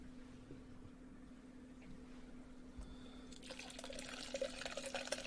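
Rum is poured into a Cherry Coke Zero late at night. A faint hum runs throughout, then a soft, steady liquid splashing rises in the last couple of seconds.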